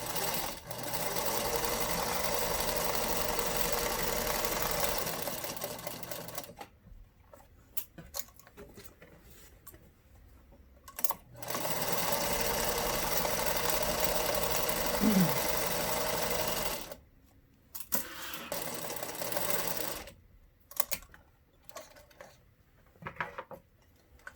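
Sewing machine running a long basting stitch: steady, even whirring in two sustained runs of several seconds each, broken by quiet pauses and short bursts of stitching, close and alone without talk.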